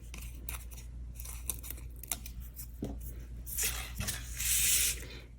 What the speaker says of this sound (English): Pull the backings off of those.